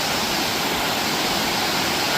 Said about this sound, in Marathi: पाण्याचा ओव्हरफ्लो होताना पाणी तिथून दिसतंय